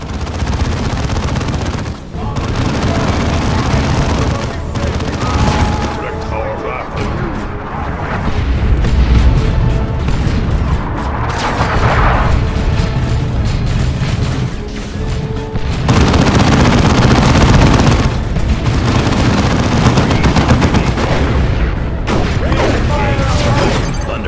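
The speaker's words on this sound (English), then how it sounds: "Artillery." Artillery pounds the battlefield in Dawn of War II, with heavy booms and explosions layered over rapid machine-gun fire and mechanical clanking. The roar is sustained and loud, swelling in waves and never letting up.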